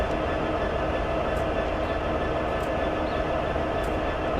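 A train rumbles steadily in Train Sim World 6 on the Cheyenne–Laramie line, a continuous low, even drone with faint metallic ticks and no clear rhythm, holding level for the whole stretch.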